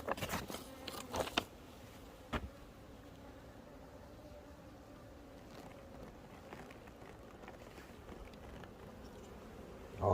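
Asian honeybees (Apis cerana) arrive at a hive in a faint, steady hum of buzzing wings. A few sharp knocks and rustles sound near the start.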